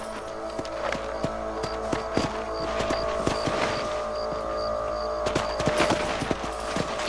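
Rifle gunshots in the Red Dead Redemption video game, a fast sequence of sharp cracks over steady game ambience and music.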